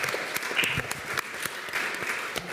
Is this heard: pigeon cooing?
no